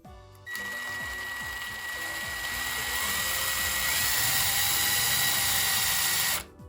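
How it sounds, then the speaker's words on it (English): A power drill whines steadily as it bores slowly through doubled-over leather for a shepherd's sling, a close, sustained high motor tone that rises slightly and holds for several seconds before cutting off. "You just want to drill through it slowly"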